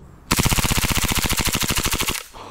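A cheap, poorly rated green gas blowback airsoft pistol struggling in cold weather fires a loud, close, rapid burst of roughly two dozen evenly spaced shots lasting about two seconds, then stops.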